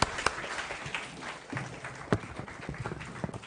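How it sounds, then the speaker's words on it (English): Scattered crowd applause at a lecture, irregular claps, moderately distant, fading slightly in the middle before picking up again. "A huge round of applause for sir."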